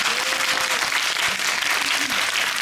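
Loud, sustained applause from a film festival audience at a director and actor Q&A, dense clapping filling the whole moment with a brief tonal note near the start.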